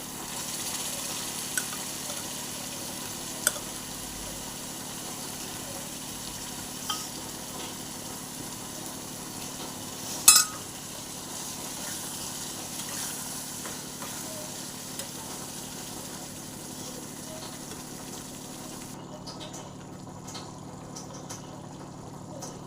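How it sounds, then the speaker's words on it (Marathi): Cooked chickpeas sizzle steadily in hot oil and chole masala while being stirred, a continuous close frying hiss with occasional light clicks of the spoon against the pan. "आता आपण याच्यामध्ये हा शिजवून घेतलेला छोले घालून घेणार आहोत"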